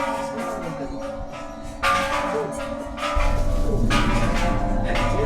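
A golden gong at a Bangkok temple, struck and left ringing with a long metallic hum that swells after each hit, close and fairly loud over steady background noise.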